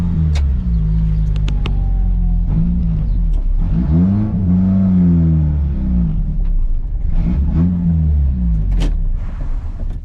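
An old Yugo car engine, left sitting for 10-15 years, cranks and fires up nearby, then revs in several loud rising and falling bursts over a rough idle.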